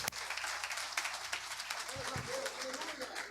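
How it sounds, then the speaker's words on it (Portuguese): A church congregation applauds in praise during a worship service, a steady crackle of many clapping hands heard a little distantly, with talk and voices layered over the clapping. "as palmas louvam ao Senhor"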